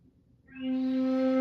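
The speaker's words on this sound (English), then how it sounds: "We're going to have the fundamental, the second harmonic, the third harmonic" A single sustained flute tone played as harmonics swells in from near silence, its overtones brightening as it grows louder and holds.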